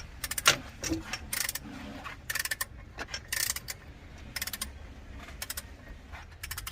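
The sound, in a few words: torque wrench tightening Ram TRX crank pulley bolt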